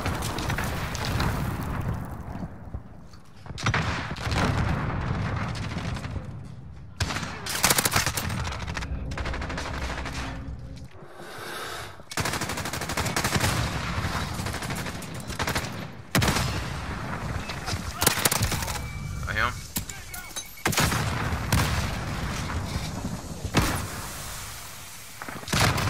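MP5 submachine gun fire in Call of Duty Modern Warfare, repeated loud rapid bursts with sharp gaps of silence between them, dense with shots and impacts across the whole stretch.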